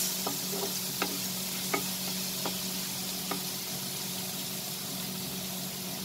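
Chopped garlic and chilli sautéing in a pan, a low, even sizzle running underneath several sharp spatula knocks against the pan, close and steady with no talking.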